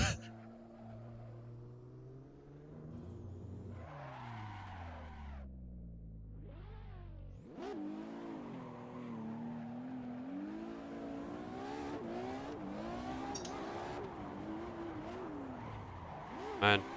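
A car in the Assetto Corsa racing game revs hard and drifts, the engine pitch climbing and falling through gear changes with tire squeal, loud and continuous under a talking voice.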